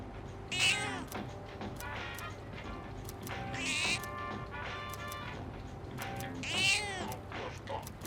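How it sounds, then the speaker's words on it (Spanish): A cat in Persona 3 Reload gives three clear, drawn-out meows spaced a few seconds apart over a steady low purring hum and quiet game background, close and fairly soft. "El gato ronronea enérgicamente, parece feliz."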